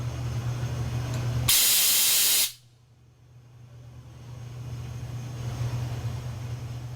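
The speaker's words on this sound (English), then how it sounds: "Raise the valve to blow off any foreign matter adhering to the pressure regulator port." An oxygen cylinder valve is opened briefly to blow off debris at the regulator port, releasing one loud, close burst of rushing gas hiss for about a second over a low background hum, then it cuts off sharply.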